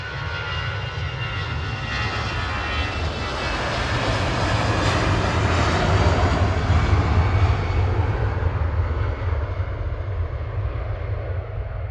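An Airbus A318 airliner departs Manchester Airport on runway 23L at night, bound for Nice, its engine roar swelling steadily and peaking midway before slowly easing, loud and continuous with no talk.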